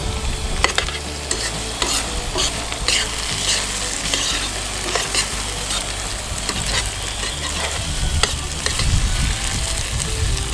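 Taco meat with drained red kidney beans fries and is stirred in a pan, a loud continuous sizzle broken by frequent scraping and clattering of a spoon, close up with no speech.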